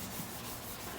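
Wet-and-dry sandpaper rubbed across a 1957 Chevrolet Bel Air hardtop dash, a steady close scratchy rasp that runs without a break and with no voices.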